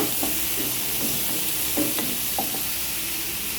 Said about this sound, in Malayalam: നല്ലോണം ചൂടായി നമുക്ക് അതിൻ്റെ ഉള്ളിയൊക്കെ ഇട്ട് കൊടുക്കാം കേട്ടോ